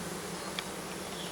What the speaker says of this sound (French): Les abeilles sont relativement calmes.